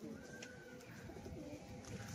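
Pigeons cooing softly and repeatedly at close range, low rounded calls running continuously over a quiet background.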